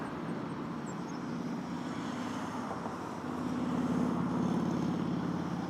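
Jet engine roar from an airliner entering the runway at Toronto Pearson airport, a steady broad rumble heard from a distance that swells slightly louder midway through, with no talk.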